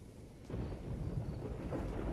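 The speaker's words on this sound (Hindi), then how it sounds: "बादल भी गरज रहे हैं." Thunder rumbling during a storm with strong wind and lightning, a low rolling boom that swells and stays heavy over steady rain-like noise, with no talk.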